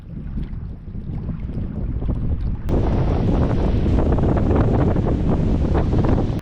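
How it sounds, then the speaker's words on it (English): Strong gusting wind buffets the microphone in a dense, roaring rush beside an alpine lake in the rain, growing louder and harsher partway through, with no voices. "now it's raining and really windy"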